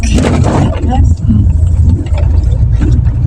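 Cars and road traffic near Carmen Bridge in the Philippines rumble loudly and continuously. A person talks close by over the traffic noise for most of the time.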